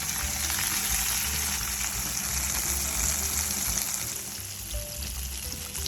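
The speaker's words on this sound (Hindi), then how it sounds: "ये देखिए अब हम कढ़ाई में डिप कर देंगे, ऑयल में फ्राई कर लेंगे" Flour-coated chicken pieces for a zinger burger fry in oil in a kadhai, giving a dense, loud, continuous crackling sizzle up close that eases slightly toward the end.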